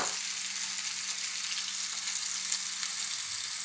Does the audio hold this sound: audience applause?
no